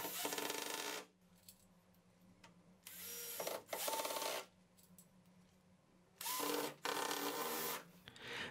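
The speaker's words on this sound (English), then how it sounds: "Then I start adding screws in a zigzag pattern." A power drill drives screws into a hinge on an OSB rolling cabinet in several short, loud whirring bursts separated by quiet pauses, close by with no talk.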